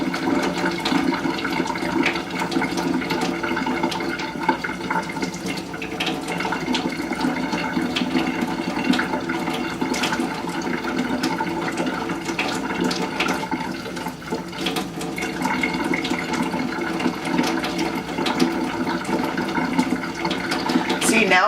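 Running water from a tap splashes steadily while make-up brushes are rinsed, a continuous loud gushing with small shifts in tone, and someone talks over it.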